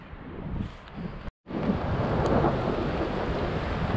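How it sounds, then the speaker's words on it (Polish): Outdoors, a heavy downpour roars in a dense, loud, continuous wash with rumbling thunder beneath it. The sound cuts out briefly, then the storm continues steadily. "a pioruny czaskają"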